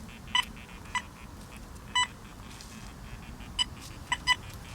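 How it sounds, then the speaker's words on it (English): A Deus II metal detector sounds short, tonal beeps and chirps at irregular intervals while swept over iron targets outdoors, with a few louder bursts above a steady noisy background. "See this iron here? Hear that Deus II?"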